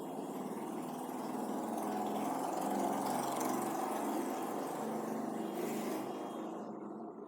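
A motorbike engine drones steadily in the background, fairly faint and continuous, swelling slightly midway before easing off.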